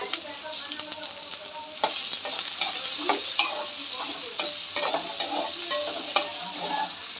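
Onions, green chillies and garlic sizzle in a frying pan, a steady hiss broken by repeated scraping stirs and small clacks of the spoon against the pan.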